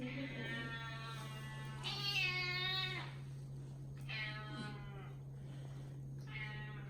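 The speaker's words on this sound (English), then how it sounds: "We got a cat symphony going on." Several cats meow insistently to be fed, overlapping drawn-out cries in bursts close by, over a constant low electrical hum.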